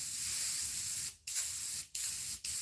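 Steady airbrush hiss, close and continuous, spraying aluminum paint onto a jointed musky crankbait fishing lure, broken by three brief pauses as the spray stops and starts again.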